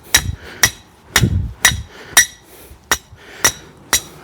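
Hammer strikes on an old rebar stake being driven into shale-laden ground, eight sharp metallic clinks at a steady, slightly uneven rhythm, close and loud with faint thuds between.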